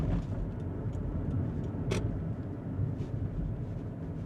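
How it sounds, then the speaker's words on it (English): A car drives through Toronto city streets, heard from inside as a steady low road rumble with a brief sharp sound partway through and no talk. "So we're driving through the streets here in Toronto"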